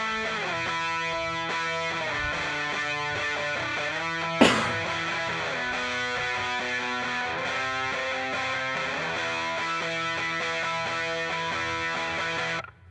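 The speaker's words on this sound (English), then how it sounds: "octave guitar sub for this little octave guitar that happens at the two turnarounds" An octave guitar sub part sits inside a dense full-band mix, a steady harmonic layer running throughout, with one sharp loud burst near the middle.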